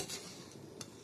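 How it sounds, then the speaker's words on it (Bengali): A spoon slowly stirs powder in a pan over a low gas flame, making a soft, quiet scraping swish with a faint sizzle beneath. "এবার একটু আস্তে আস্তে করে নাড়াচাড়া দেবো।"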